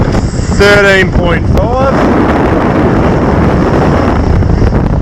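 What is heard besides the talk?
wind blowing on a sailboat at sea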